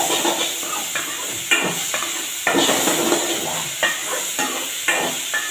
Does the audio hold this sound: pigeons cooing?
no